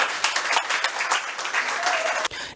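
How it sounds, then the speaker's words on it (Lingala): An audience at an evening gathering gives a dense, steady round of applause, many hands clapping close and loud for over two seconds before it cuts off abruptly. "il mérite des applaudissements plus que ça"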